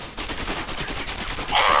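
Gunfire in the tactical shooter video game Ground Branch, a rapid crackling series of shots that keeps on through the clip and grows louder toward the end, with no talking.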